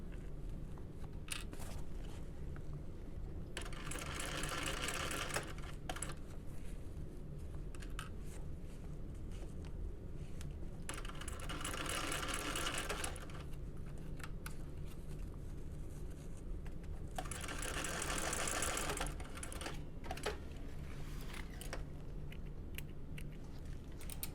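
A sewing machine bastes a seam on a small bucket bag at an eighth of an inch, running in three distinct bursts several seconds apart against a quiet background, with no speech.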